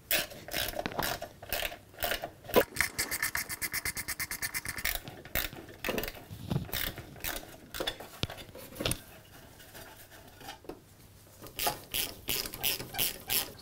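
Bolts on a lawn mower's top cover are loosened with a ratchet wrench, quick rhythmic bursts of close metallic clicking separated by short pauses and light handling noises.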